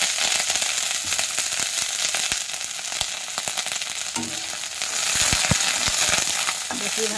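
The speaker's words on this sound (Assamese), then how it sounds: "শুকান মাছখিনি তেলতে ফ্ৰাই কৰি ল'ম।" Dry fish fries in oil in a wok, giving a steady, loud sizzle with scattered sharp crackles and pops throughout, close and continuous with no talking.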